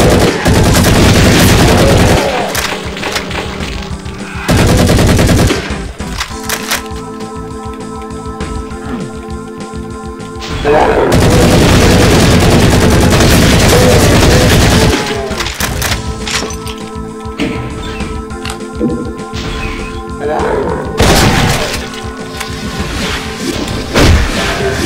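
Gunfire in the video game Meatball Machine: very loud, dense bursts of shooting and booming impacts in long stretches, broken by short quieter gaps, with no talk.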